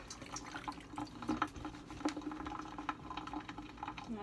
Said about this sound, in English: Rinse my hands a bit.